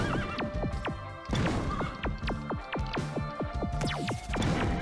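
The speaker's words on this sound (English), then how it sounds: "Space horses." Video game horses in My Name Is Mayo 3 neigh and whinny repeatedly in quick overlapping calls, loud and close, with clip-clop hoofbeats mixed in.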